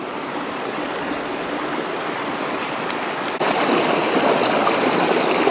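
Stream water rushes through Parfrys Glen in spring, a continuous close, broadband babble and splash that grows suddenly louder partway through, as if moving nearer to the flow.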